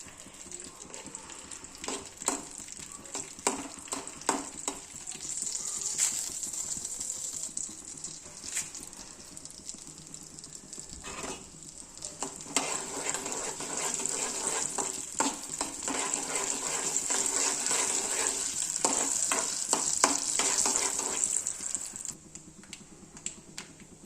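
Dried red chillies sizzle and crackle in hot oil while being stirred in a pan for Guntur gongura chutney, a steady close frying hiss with scattered scraping stir strokes, louder toward the end before settling.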